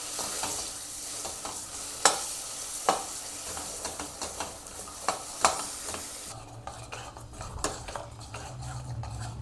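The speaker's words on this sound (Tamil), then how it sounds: "அதே கடாயில் கொஞ்சம் கூட நெய் விட்டுட்டு நம்ம அரைச்சி வச்சுருந்தோம்ல அந்த ஏத்தம்பழத்தை அதில் போட்டுடலாம். போட்டு நல்லா வதக்கிக்கோங்க." Ground nendran banana sautéing in ghee in a kadai, a soft steady sizzle broken by sharp scrapes and clinks of a spatula against the metal pan, with a low hum joining in late.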